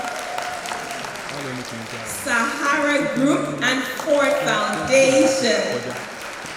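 An audience applauds sponsors at the Social Innovators Programme and Awards, a sustained patter of clapping under a presenter speaking over a microphone, the clapping swelling slightly toward the end.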